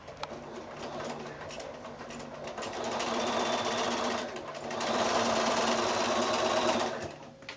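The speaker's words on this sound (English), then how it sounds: "I'm just going to chance it and sew through from corner to corner there" Steady sewing machine stitching across a quilt wall-hanging block from corner to corner, running in two sustained runs with a brief slowdown between them, while a dove coos faintly in the background.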